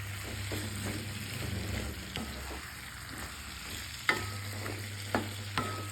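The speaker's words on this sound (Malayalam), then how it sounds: "ഇനി ഇതിലേക്ക് അരിഞ്ഞു വെച്ചിരിക്കുന്ന സവാളയും പച്ചമുളകുമാണ് ചേർക്കേണ്ടത്." Sliced onions and green chillies sautéing in a pan for prawn masala, a soft steady sizzle broken by a few sharp spoon knocks and stirring scrapes near the end.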